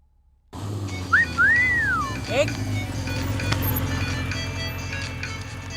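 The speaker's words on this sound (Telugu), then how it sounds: "ఎవరో ఫోన్ రా" A phone ringtone chirps in a Telugu movie scene: a short rising-and-falling electronic melody near the start, heard over a steady low background bed of ambience or score.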